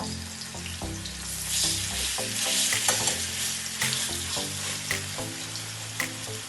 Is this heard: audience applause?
no